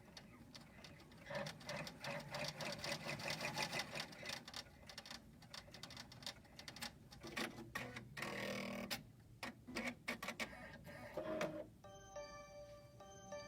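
A six-needle embroidery machine stitches a design, a fast, close mechanical chatter of needle strikes with brief pauses and shifts in rhythm, ending in a few beeps and faint voices in the background.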